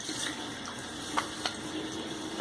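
Water runs steadily from a tap as a safety razor is rinsed, with two brief clinks of the razor against the sink standing out near the middle.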